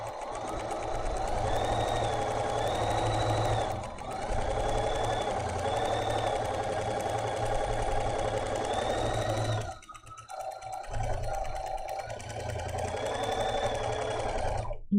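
Sewing machine stitching pieces of a quilt along a marked line, a steady close mechanical whirr running continuously with a brief pause and dip partway before resuming.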